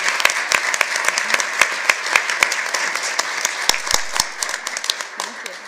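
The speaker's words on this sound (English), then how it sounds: "So let's give them another round of applause." Applause from a school board meeting audience for student public speakers, a steady wash of many hands with some sharper individual claps standing out, fairly close and continuing throughout, with voices faintly mixed in.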